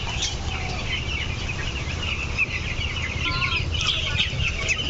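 Fifteen-day-old broiler chickens on a poultry farm of about 800 birds cluck and cheep in a dense, continuous chorus, with insects buzzing faintly in the background.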